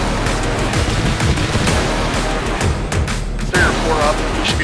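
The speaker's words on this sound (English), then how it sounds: "Oh, they detonated the IED." An IED detonates in the military video game Arma 3, a heavy explosion followed by scattered gunfire and booming reports under radio-style voices talking.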